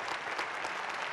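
Audience applause at a question-and-answer session, a brief burst of dense clapping from a crowd heard close and steady.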